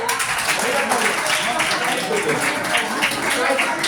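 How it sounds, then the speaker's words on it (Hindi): Audience at a National Youth Day quiz applauding steadily, a dense even wash of many hands clapping together throughout with no break. "एक बार बढ़िया तालियां"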